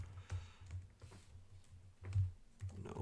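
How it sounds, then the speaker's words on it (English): Keys on a computer keyboard clatter in a quick, quiet run of taps while text is typed into an Excel spreadsheet, with no talking. "So we'll type in Rochester,"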